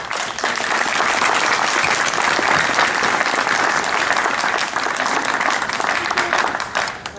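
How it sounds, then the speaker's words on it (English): Graduation ceremony crowd at a high school applauds the parents, with continuous dense clapping that holds steady for about seven seconds before trailing off at the end. "I would like for you right now to give a round of applause to your parents."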